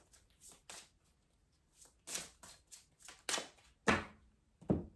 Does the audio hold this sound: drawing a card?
yes